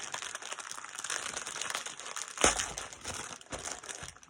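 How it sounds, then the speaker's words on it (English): Craft sticker packs in plastic packaging are handled, giving a near, steady run of crinkling and crushing with a louder crackle partway through. "sorry for the crinkling"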